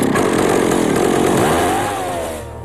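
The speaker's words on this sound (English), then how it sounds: "There are neighbors with sturdy chainsaws," Chainsaws roar loudly as neighbors clear fallen trees from a property after a hurricane, a steady close engine snarl that eases and drops toward idle at the end.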